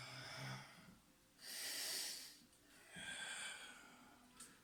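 Breathing during a de Gasquet Pilates core exercise: a few slow, airy inhales and exhales close to the microphone, quiet and unhurried, with no talk.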